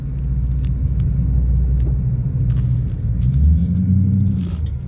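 Big Dodge Hemi-powered car rolling close behind a small 1968 Saab, giving a steady deep engine rumble and road drone throughout with a slight swell near the end.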